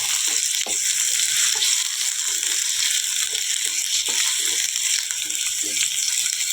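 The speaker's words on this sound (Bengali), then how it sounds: "এবার আলুগুলো একটু ভাজা করব।" Potatoes fry in a wok of hot oil seasoned with five-spice and dried red chilli, a continuous bright sizzle broken by repeated scraping and stirring knocks, near and fairly loud.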